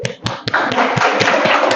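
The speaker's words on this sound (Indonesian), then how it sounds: "Oke, beri tepuk tangan." Hands clap in a quick, even rhythm of about eight sharp close claps, loud and nearly alone, with a brief rustle under them.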